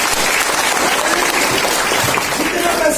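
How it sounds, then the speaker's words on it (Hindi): Loud, dense applause from an audience at a marketing seminar, a continuous wash of many hands clapping at full strength throughout. "जोरदार ताली"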